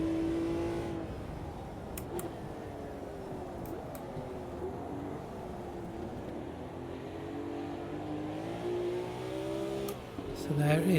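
A Lamborghini Miura SV in the Automobilista 2 racing game runs with a steady engine whine that rises and falls through shifts, under continuous talk, and builds to a louder rev at the end.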